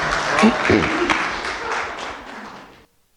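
A church congregation applauds volunteers during a Spanish-language service, a dense wash of clapping starting at once and slowly thinning out before stopping, with a voice briefly audible early on.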